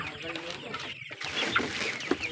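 Forty-five-day-old chickens cluck and chatter close by during night feeding, a busy flock with overlapping calls and a few sharper squawks.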